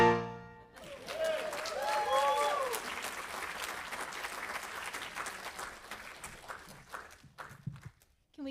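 Audience applause for a musician at a Sunday service, rising just as a song ends with a sustained guitar and vocal tail, then settling into steady clapping with a few whoops before fading out.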